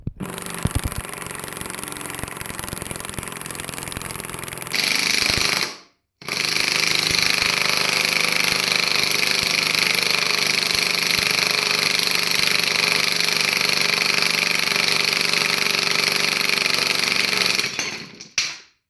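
A puller forces a lawn tractor axle out of a stuck rim with a loud, continuous mechanical rattling and grinding close by. It cuts out briefly near the middle, then runs on steadily before stopping.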